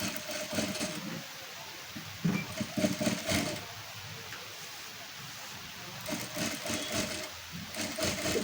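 A sewing machine stitches along the folded edge of a blouse fabric border in short whirring bursts, pausing between runs, close and moderately loud.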